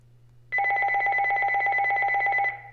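A telephone ringing, one loud, steady electronic trill held for about two seconds before cutting off, close and alone over a faint low hum.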